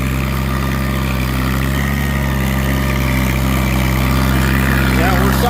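An antique tractor engine runs at a plow day, a loud, steady low chugging drone close by with a constant hum, while a person talks over it.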